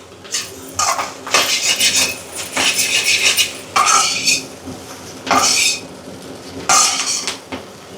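A metal spoon scrapes and clanks against a pan in several loud bursts while noodle masala is stirred and fried, the strokes coming in uneven rhythmic runs over a faint sizzle.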